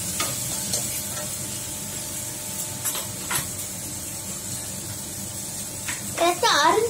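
Ingredients for tomato kochi sauté in a pan with a steady, close sizzle, broken by a few sharp scrapes of stirring; a voice briefly talks near the end.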